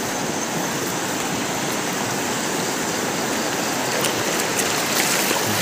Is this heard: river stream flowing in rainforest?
yes